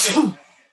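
A single sharp sneeze bursts out loud and close, then trails off quickly into quiet.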